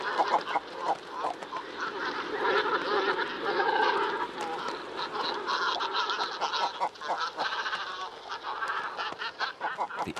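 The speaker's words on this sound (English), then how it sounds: "Usually, great cormorants are silent, but when they congregate on their nesting grounds, a chorus of growls, croaks and clucks shatters the peace." Great cormorants gathered at their nesting grounds raise a dense, continuous chorus of growls, croaks and clucks. The calls overlap closely and stay loud throughout, with no voices.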